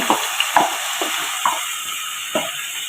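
Crushed ginger, green chilli and garlic hit hot oil, giving a steady close sizzle with a few sharp crackles and pops scattered through, no talking.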